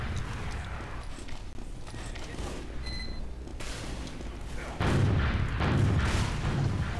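Gunfire and booming blasts in the video game Team Fortress 2, a continuous rumble of shots that swells louder in the second half, with mechanical clanks mixed in.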